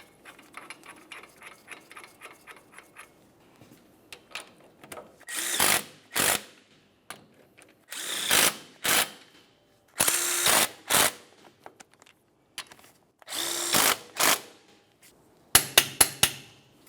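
Power tool bursts and ratchet clicks tightening lower ball joint bolts on a 1994-2002 Dodge Ram 2500 front suspension: a soft ratcheting run, then several loud, close whirring bursts in short pairs with pauses between, ending in quick clustered bursts.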